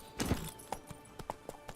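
Hooves of Roach, the horse in The Witcher 3, clip-clopping in a few soft, evenly spaced thuds at a walking pace, faint and fairly close.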